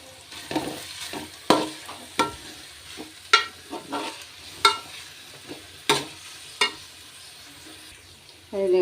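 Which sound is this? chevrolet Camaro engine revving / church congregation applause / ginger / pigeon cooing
ginger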